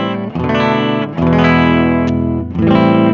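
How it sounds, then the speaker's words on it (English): Electric guitar chords struck three times and left ringing through a clean amp with a low-output humbucker tone, full and warm, with no voices. "Quite a lovely low output humbucker tone."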